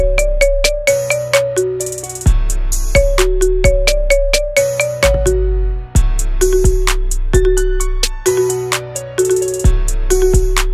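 Bright marimba phone ringtone playing a repeating melodic pattern of struck, ringing notes over a steady low bass, loud and close with no talking, looping continuously.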